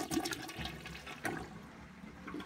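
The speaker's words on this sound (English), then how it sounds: "But let's flush and see what happens." A Mansfield Alto toilet flushes with a rushing swirl of water that surges, briefly eases, then surges again before settling into a softer steady refill hiss, close and fairly quiet.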